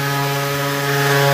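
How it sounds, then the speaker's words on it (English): Power sander working over the body of a Ford Mustang, a steady loud motor whine with a strong fixed hum and overtones running unbroken and close, no voices. "getting some sanding done on the Mustang"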